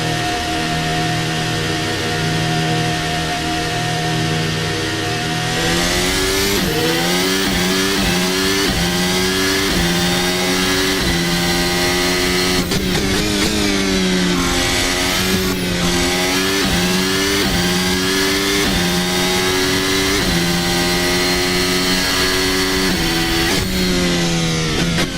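Formula Hybrid race car in a sim racing game at Imola, engine buzzing loudly and continuously, pitch climbing and dropping through gear shifts as the car accelerates and brakes, no talk.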